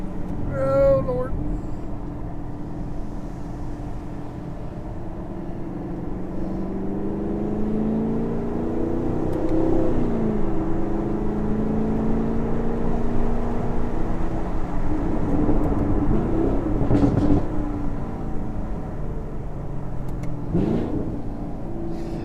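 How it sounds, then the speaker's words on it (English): A 2019 Chevrolet Camaro SS V8 with factory exhaust and a 10-speed automatic rises through the revs on wet US Highway 129 in the mountains, its engine drone swelling and falling over road noise. "For factory exhaust, man, she sounds pretty good."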